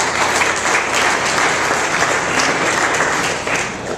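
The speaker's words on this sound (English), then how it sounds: "Let's give all of them a round of applause." Audience at a 2010 South Dakota political event applauding, a dense, steady round of clapping that fades slightly at the end.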